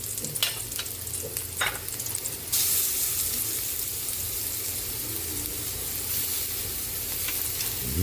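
Garlic sizzles and fries in a hot pan for a Filipino chicken dish, with a steady crackling hiss and occasional scraping stirs, loud and close with no talking.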